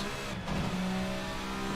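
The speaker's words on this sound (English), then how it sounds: "I'm downshifting sometimes." Touring race car in Assetto Corsa at Road Atlanta's club course, its engine droning loud and steady with shifting pitch through the short burst, no talk over it.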